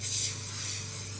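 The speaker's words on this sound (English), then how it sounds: "I'm just going to give them a very light spray with some spray-on cooking oil." A short, soft hiss of spray-on cooking oil misted onto stuffed tomatoes, a light burst at the start fading into a quiet steady hiss.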